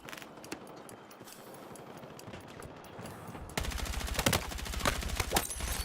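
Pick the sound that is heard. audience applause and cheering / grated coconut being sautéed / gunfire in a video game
gunfire in a video game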